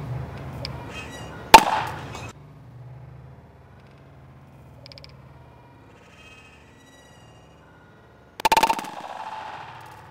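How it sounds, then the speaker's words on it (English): A foam ball grenade shell fires from an S Thunder toy blaster: one sharp, loud pop with a short rattling burst, a quiet stretch, then a second burst of noise near the end. "now we're shooting the short grenade shell here"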